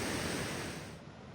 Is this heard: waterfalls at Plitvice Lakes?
yes